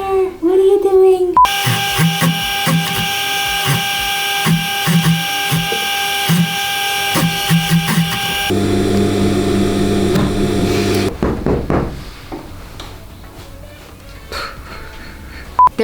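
A sewing machine top stitches around a denim mitten at a half-inch seam, its motor whirring close and steady in long runs with short stops and a change in pitch partway through, with voices heard near the end.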